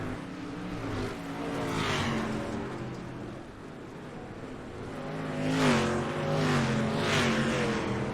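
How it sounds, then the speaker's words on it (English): Dirt street stock race cars roar around a dirt track during a heat race, engines droning and swelling as the pack passes, loud and continuous with layered revving. "Awesome racing out of these dirt street stocks."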